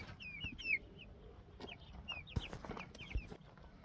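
Broiler chickens cluck and make soft peeping calls in a continuous scattered chatter from a small flock, with some thumps and rustling, fairly quiet and moderately close.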